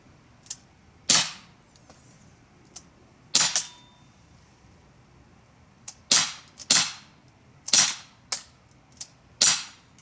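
Daisy 21-round CO2 air pistol firing at targets, a series of sharp, loud pops spaced irregularly, some single and some in quick pairs, with quiet gaps between shots.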